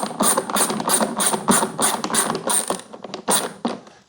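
Phillips head screw driven into a Sun Joe pressure washer during assembly, a steady run of quick ratcheting clicks, close and fairly loud, with no talk.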